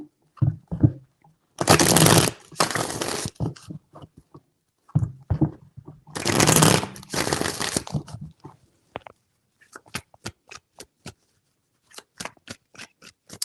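Tarot cards are shuffled in two loud, close riffling bursts, followed by a series of sharp, separate card taps and flicks with short silences between.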